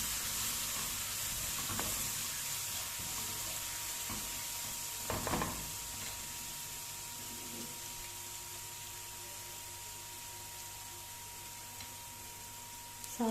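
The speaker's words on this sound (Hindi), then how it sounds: "तो अच्छा सा फ्राई कर लेना है थोड़ा सा बस।" Garlic paste fries in oil with a soft, steady sizzle throughout, punctuated by a few faint clicks and a brief stirring scrape near the middle.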